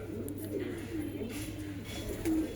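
A pigeon coos softly in a loft of kept pigeons in Allahabad, a few low rolling calls over faint background noise and distant twittering.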